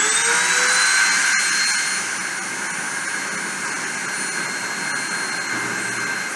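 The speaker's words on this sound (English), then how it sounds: "I'm going to start the spindle and start the deposition." A deposition machine's spindle spins up and runs with a loud, steady, close whine that has a jet-like hiss. It eases slightly in level after a couple of seconds and then holds constant with no speech.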